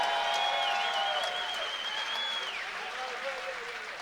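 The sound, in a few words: applause for two fighters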